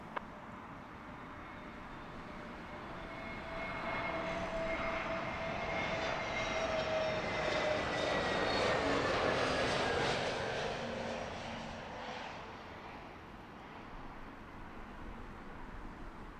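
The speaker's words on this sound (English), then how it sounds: "British Airways flight 373 coming in from Toulouse" British Airways airliner on flight 373 from Toulouse landing at London Heathrow on a gusty day, its engine roar swelling steadily from a distance to a broad whining peak overhead, then fading away, with no voices.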